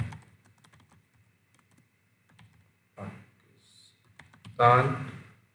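Light computer keyboard typing while patient details are entered into lab reporting software, soft scattered keystrokes with a louder burst of clicks near the end, close by and otherwise fairly quiet.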